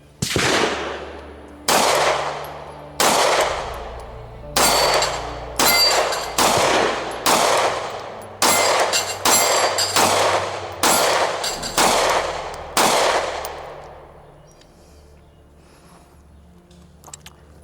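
Test shooting ammunition from a gun with big ports, about a dozen loud sharp gunshots fired one after another at roughly one-second intervals, each with a short ringing echo, ending in quiet, with no talking.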